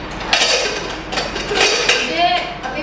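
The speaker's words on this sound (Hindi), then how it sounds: "अभी हम कुकर पे चढ़ा देती है इसको पकाने के लिए" A rice pot goes onto a pressure cooker in a home kitchen, giving a few sharp metallic clanks and scrapes at close range, followed by a brief ringing clatter.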